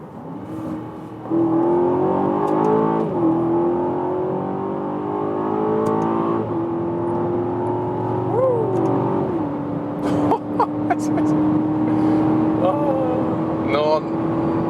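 Aston Martin DBX SUV engine in Sports Plus mode revving hard through gear changes, pitch climbing then dropping at each shift, loud and close, with someone talking over it.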